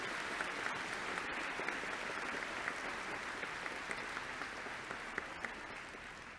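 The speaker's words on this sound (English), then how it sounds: "Let's give them a round of applause." Steady applause from a large commencement audience in a hall, dense and even clapping that carries on throughout at a moderate distance.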